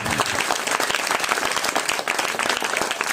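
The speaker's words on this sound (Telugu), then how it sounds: "గట్టిగా చప్పట్లు కొడతావా?" An audience at a church retreat meeting bursts into loud, dense applause, many hands clapping continuously throughout.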